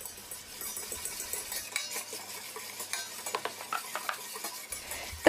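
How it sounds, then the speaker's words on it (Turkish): A spoon scrapes and stirs around inside a pot of panna cotta cream mixture with sugar, vanilla and agar agar, soft rhythmic clinks and a faint sizzle, steady and close. "Sürekli karıştıralım topaklanmaması için."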